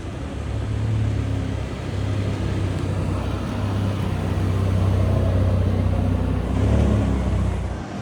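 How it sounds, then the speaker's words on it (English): A Formula 1 safety car creeps out of its pit lane garage during testing, giving a steady low engine rumble with a slight swell near the end, continuous and fairly close, with no talk. "the safety car to suddenly creep out of its garage"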